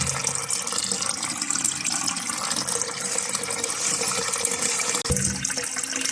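Water runs steadily into a toilet cistern through a newly fitted bottom entry fill valve, a continuous hissing gush that holds level for about five seconds before a brief dip and change near the end.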